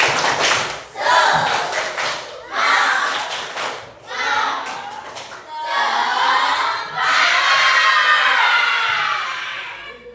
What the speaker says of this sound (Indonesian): kita beri tepuk, beri semangat dulu